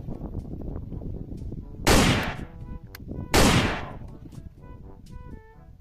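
A toy shotgun fires twice, each shot a sharp, bright burst that fades quickly, spaced about a second and a half apart over a low background murmur.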